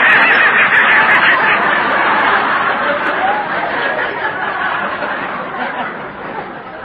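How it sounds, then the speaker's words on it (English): Loud, dense quacking from a group of live ducks in a basement fills the clip, gradually tapering slightly in volume. "that noise came from some live ducks I got in the basement"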